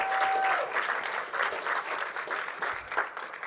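An audience at an event's closing ceremony gives sustained applause with a few cheers, steady and fairly close, with no talk over it.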